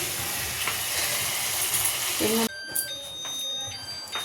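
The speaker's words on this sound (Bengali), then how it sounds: "ডিমের কারি করবো বলে এই যে মশলাটা করে নিচ্ছি। পেঁয়াজ, আদা, রসুন, লঙ্কা সব একসঙ্গে দিয়ে দিয়েছি।" Onion, ginger, garlic and chili masala frying in a pan for egg curry, a steady close sizzle and crackle throughout that quiets after a brief clatter partway through.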